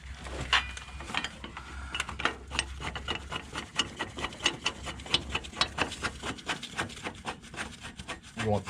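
Ratchet tightening a flanged bolt on a truck bracket, a close, steady run of rhythmic clicking strokes that continues throughout the clip.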